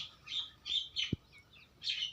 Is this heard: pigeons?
yes